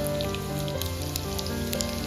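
Steady, crackling sizzle of crushed garlic, cumin and mustard seeds frying in hot oil, continuous and close, with no talking.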